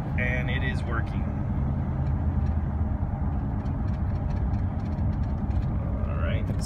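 A 1999 Dodge Roadtrek Popular 190 motorhome cruises on cruise control, its engine giving a low, steady road hum that runs the whole way beneath faint clicks and a brief whine.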